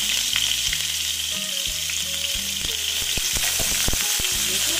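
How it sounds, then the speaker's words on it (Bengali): Onions frying in a pan as the base for a chital fish curry, giving a loud, steady sizzle throughout, with occasional clicks and scrapes from stirring. There is no talk. "পেঁয়াজটা ভালো মতন ভেজে নিচ্ছি।"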